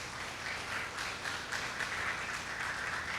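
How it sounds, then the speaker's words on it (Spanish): Faint, distant applause from a church congregation during a service, a soft steady patter of clapping lasting about three seconds. "Aplauso al Señor"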